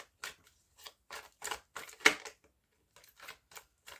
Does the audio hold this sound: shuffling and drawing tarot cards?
yes